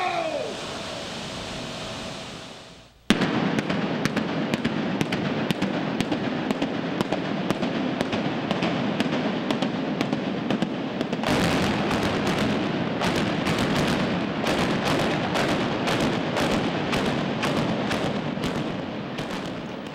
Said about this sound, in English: Part of Building 53, which was used to make acetate film base, was taken down through an implosion at the business park near Lake Avenue.